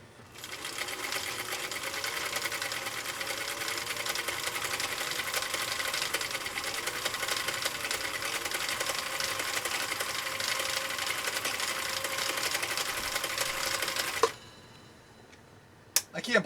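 A Husqvarna Viking CI 21A sewing machine with a 1.5 amp motor running a cam D decorative stitch, a steady close whirring and rapid needle ticking for about fourteen seconds before stopping, followed by a few clicks.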